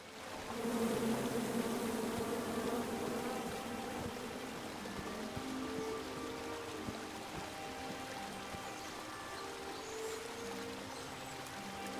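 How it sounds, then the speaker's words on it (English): A swarm of angry bees buzzing around a tree in the King's Quest video game, a dense continuous drone that stays loud and close for the whole stretch with no talk over it. "Come at me, bees!"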